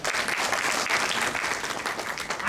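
Steady, dense applause fills a packed spiritual assembly hall, an audience clapping together at close range, the sound even and sustained throughout without pause.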